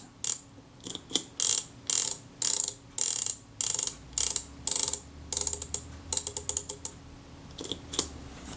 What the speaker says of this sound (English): I'm rolling the sprocket shaft with my thumb as I wind the advance